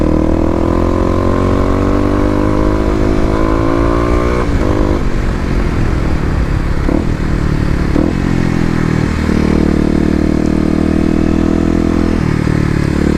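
Kawasaki KLX250 dirt bike with Stage 1 modifications riding off-road OHV trails, its single-cylinder engine loud and close, revving up and down through repeated throttle changes and gear shifts with no talk.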